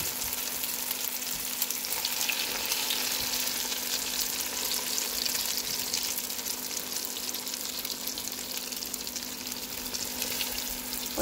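An egg and vegetable omelette mixture fries in a pan, giving a steady, close sizzle with crackling pops and a faint constant hum beneath, continuing evenly for about eleven seconds with no talking.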